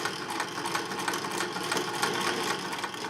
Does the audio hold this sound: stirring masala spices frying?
no